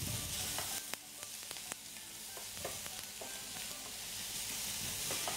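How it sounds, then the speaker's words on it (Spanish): Ham and chives cook in a pan on low heat, giving a steady soft sizzle and frying crackle with scattered small pops and occasional stirring clicks, continuous for several seconds without any talking. "Y mientras vamos dejando esto que se cocine a fuego bajo"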